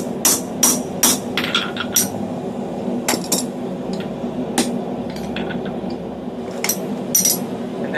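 A blacksmith hammers a slitter through hot steel on an anvil, striking over a piece of mild steel. Sharp, ringing metallic blows come close and loud in irregular bursts of two or three, with short pauses between them.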